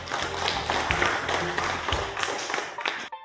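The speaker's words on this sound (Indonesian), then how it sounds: "Tepuk tangan dulu" A classroom of students claps together in a dense, steady burst of applause lasting about three seconds, then it stops abruptly.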